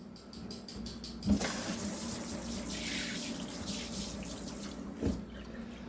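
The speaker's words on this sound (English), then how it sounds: "Rinse your tuna off with cold water." Cold tap water running onto tuna in a strainer at a kitchen sink, a steady close hiss and splash with a couple of sharper knocks as the strainer is handled.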